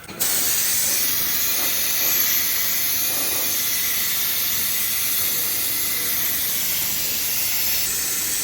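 Steady, continuous hiss of a spray gun applying primer to a car body, an unbroken airy spray at even volume from start to finish with no pauses.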